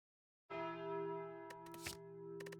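The Calling Bell relic in Slay the Spire tolls once, a deep resonant bell strike that rings out with a long sustained hum while a few soft clicks land over the decay.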